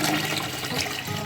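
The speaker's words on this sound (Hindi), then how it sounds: "तकरीबन 2 लीटर पानी ऐड करूँगा मैं इसमें।" About two litres of hot water gush steadily into a pot of browned chicken and rice for Arabian ruz bukhari, a loud continuous splashing rush close by.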